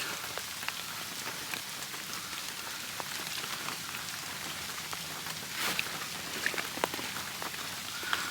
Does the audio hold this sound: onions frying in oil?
no